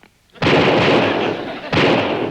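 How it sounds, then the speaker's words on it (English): Military gun salute at a funeral attended by delegations from many nations: two heavy, booming blasts a little over a second apart, the first rolling on loudly until the second hits, with no talking. "the military, which gave him a 12-gun salute."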